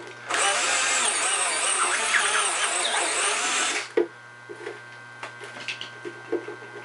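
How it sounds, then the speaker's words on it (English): A power drill whirs loudly and continuously for several seconds, enlarging holes in old aeroponic gutters, then stops, followed by a few quiet knocks and handling sounds. "when you're drilling out these holes, make sure that you use a little bit of caution"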